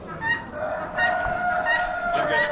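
Hens and a rooster from auction breeder pens clucking together nearby, with a drawn-out crow rising over the steady, fairly loud flock chatter.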